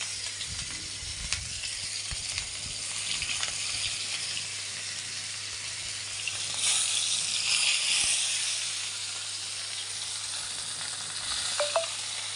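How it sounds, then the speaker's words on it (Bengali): Catfish (magur) frying in oil in a wok, a steady broadband sizzle running throughout with a louder surge midway and occasional crackles. "এই কড়াইতে তেল দিয়েছি এটাতে মাছগুলো আগে ভেজে নিব"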